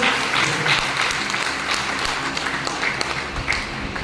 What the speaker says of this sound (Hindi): एक बार फिर से आप लोग ताली बजाएंगे